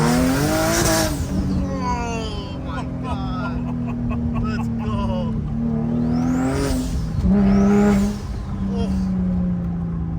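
A turbocharged Infiniti G35 coupe revs hard with whining turbo spool and rising, falling engine pitch, loud and close, while excited voices talk over it.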